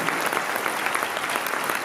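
Steady, dense clapping from an assembled crowd at a 2019 Produit en Bretagne general assembly, continuous and even in loudness for the whole stretch.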